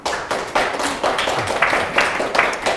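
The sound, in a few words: audience clapping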